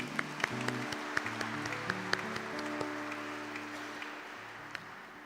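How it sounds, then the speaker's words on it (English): Applause for a newly ordained Jesuit priest's parents at a priestly ordination ceremony: scattered claps with some sharp individual hands standing out over a steady organ or sustained tone, moderately faint and continuous for several seconds. "Let's clap for Lindsay's parents."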